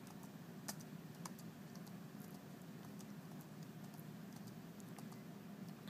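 Quiet keystrokes on a computer keyboard at a desk, scattered clicks coming in small irregular bursts for several seconds, faint against a steady low background hum with no voices.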